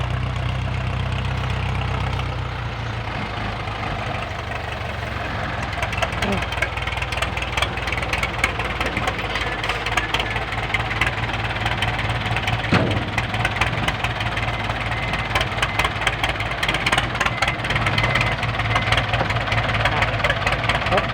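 A tractor engine idles with a steady, loud, throbbing rumble, and people talk over it.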